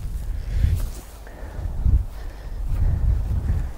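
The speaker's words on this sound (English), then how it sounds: "You probably hear all that wind on the auto. It's really strong." Strong gusty wind buffets the microphone on an open outdoor course, a loud low rumble swelling in repeated surges, with no talk.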